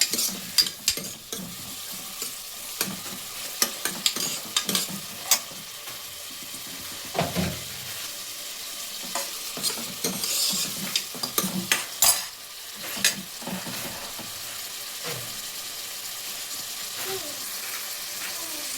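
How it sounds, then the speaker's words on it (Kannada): Chopped onions fry in hot oil for a mutton leg soup, sizzling steadily while a spoon stirs and scrapes the pan in repeated sharp clatters. "ಕಟ್ ಮಾಡಿರೋ ಈರುಳ್ಳಿನ ಹಾಕಿ ಫ್ರೈ ಮಾಡಬೇಕು"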